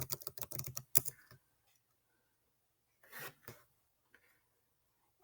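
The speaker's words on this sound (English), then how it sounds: "So I would type in my name." Quick bursts of computer keyboard typing as a name is entered, a dense run of keystrokes up front, then a pause and a couple of shorter clusters of taps, close and fairly quiet.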